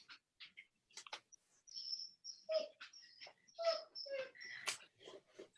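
A dog makes soft, high whimpers and squeaks in short bursts near a microphone, mixed with a few chirpy bird-like notes and quiet indoor noise.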